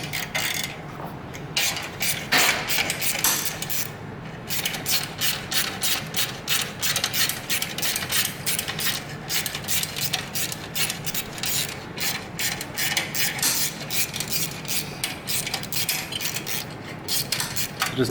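Metal clamp on a Harley-Davidson Touring 2017+ Milwaukee-Eight exhaust being opened, giving steady close ratcheting clicks and scraping mechanical rubs that run throughout with no talking.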